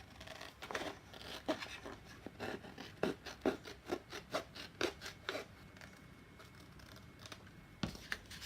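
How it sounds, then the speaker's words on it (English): Scissors cutting around the edge of a paper envelope, a quiet series of close, crisp snips coming in quick clusters with short pauses between them. "And then just cut around the edge of the envelope with your scissors."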